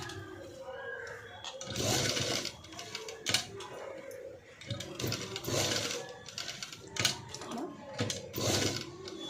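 Sewing machine stitching a sleeveless cut-work padded blouse at the neckline, running in short rattling bursts with pauses between, close and mechanical, with a voice talking over it.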